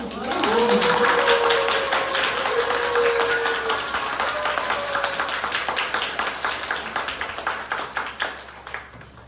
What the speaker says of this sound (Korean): 많은 박수로 환영해 주시기 바랍니다